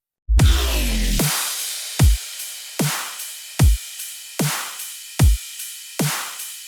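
Heavy dubstep electronic drum pattern with booming kicks and sharp snares in a steady half-time groove, opening with a deep bass hit and ringing decays between beats.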